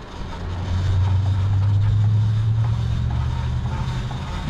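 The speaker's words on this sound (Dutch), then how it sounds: "Moet je horen, mijn motor heeft het moeilijk" A car engine strains as it climbs a steep road near Saint Nazaire en Royans, France, giving a steady, loud low drone with a rising labored hum heard from inside the vehicle.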